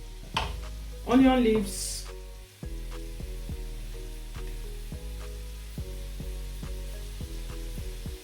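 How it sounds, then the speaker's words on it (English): Red onions stir-frying in a pan for a fish and shrimp sauce: a loud burst of sizzling as they hit the oil, then a steady low frying hiss under a brief spoken comment and continuous background music. "I'm using the red onions because I love red onions. So we're going to stir fry it a bit."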